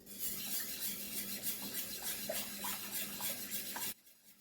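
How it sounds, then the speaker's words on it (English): A spoon scrapes repeatedly through thick pumpkin pie filling in a pot being readied for canning. The strokes are close and rhythmic over a soft sizzle, then stop abruptly near the end. "let's get to stirring this in here"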